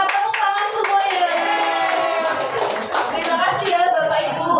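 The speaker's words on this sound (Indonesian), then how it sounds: "Mantap, tepuk tangan semuanya." A seated health-education audience bursts into close, dense applause, many hands clapping steadily for several seconds with voices mixed in underneath.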